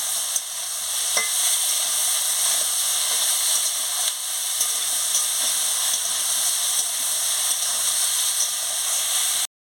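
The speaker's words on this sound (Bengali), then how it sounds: "দিয়ে আনাজটাকে ভালো করে ভেজে নিচ্ছি।" Ridge gourd, snake gourd and potato pieces with salt and turmeric frying in a pan, a loud, steady close sizzle and hiss throughout with a few faint stirring knocks, no talking.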